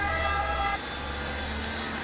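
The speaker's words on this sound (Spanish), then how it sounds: "también la ambulancia" An ambulance siren passes outside, its wailing tones strong for under a second before dropping away into a low, steady background rumble.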